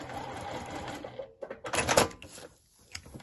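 Sewing machine stitching along a fabric seam line, with short bursts of rapid mechanical clatter between pauses and quieter handling sounds, fairly close and moderately soft.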